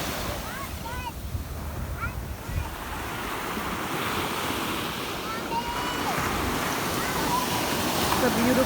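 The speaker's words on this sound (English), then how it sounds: "I am at the beach now" Ocean waves roll and wash in at a beach, a broad steady surf roar mixed with wind buffeting the microphone, while birds chirp briefly in the background and no one speaks.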